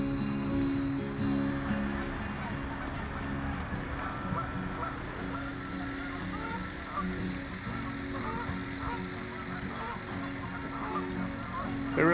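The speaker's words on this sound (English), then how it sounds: "You can actually hear the birds." Geese and other waterfowl honk and call from a small island beside a zoo, a busy layered chorus at moderate distance with steady outdoor background noise and no speech.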